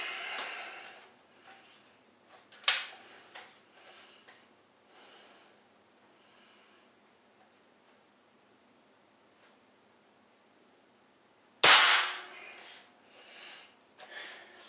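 Two sharp, loud pops from a Benjamin Bulldog air rifle fired at a 10-yard target, spaced well apart with near silence between them.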